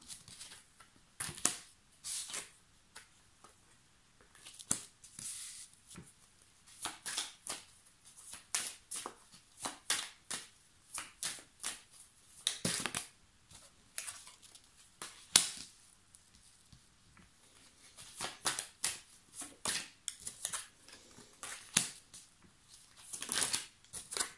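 Tarot cards are shuffled and drawn, crisp riffling bursts and flicks repeating in irregular clusters, close and fairly quiet, with no talking.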